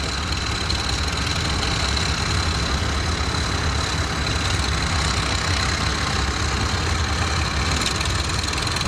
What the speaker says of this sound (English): Randy from Oakwood, driving that 1953 UB right there.